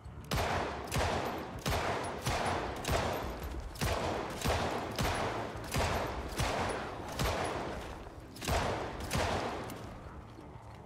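Rapid pistol gunfire aimed at zombies in a video game, loud and close, with about a dozen sharp shots in a steady rhythm that runs through the whole stretch and stands alone without talk.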